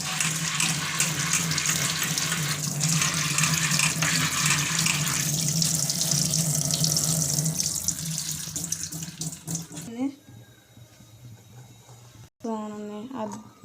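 Tap water runs steadily into a kitchen sink while onions, chilies, ginger and garlic are rinsed, a close, continuous splashing stream for most of the clip before it stops, leaving brief handling noises and a short voice near the end.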